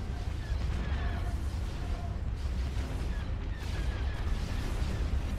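Spaceship weapons in Star Wars: Empire at War: Forces of Corruption fire a steady, dense barrage of laser shots and explosions that rumbles continuously, with brief zaps layered over the din.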